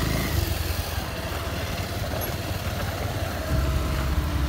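A motorcycle engine running during a ride, a steady low rumbling drone with a windy hiss over it, holding an even level throughout with no voices.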